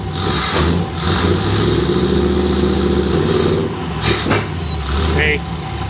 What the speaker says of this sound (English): it's idling much better, and it's starting on its own